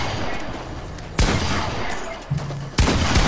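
Bursts of gunfire from the video game Fortnite, a steady rattle broken by three louder, sharper volleys, loud and close with no talk over it.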